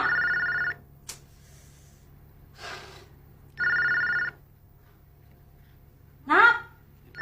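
A landline telephone rings inside a home in two separate bursts of bell-like trilling with quiet gaps between them, and a voice calls out briefly near the end.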